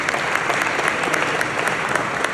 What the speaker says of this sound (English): I just want to give you a round of applause.